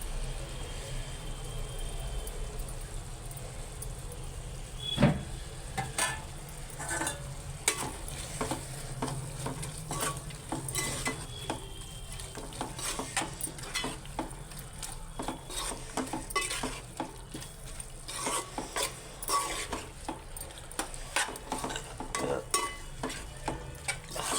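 Prawns frying with ground spices for prawn biryani sizzle steadily in a pan, with frequent clicking stirs and scrapes of a spoon against the metal throughout.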